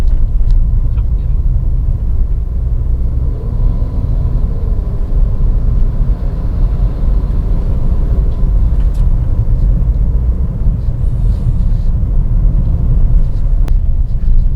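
Steady low rumbling road and engine noise inside a Suzuki S-Cross cabin cruising at about 40 km/h, constant and fairly loud with no distinct events.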